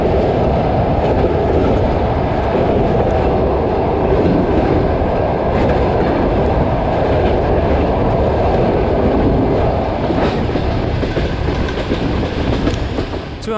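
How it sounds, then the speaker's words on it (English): A train on the Russian Far East railway crosses a meandering river, rumbling steadily along the tracks, loud and close, with a continuous rolling roar and faint rhythmic clatter of wheels. "the train passes over it several times"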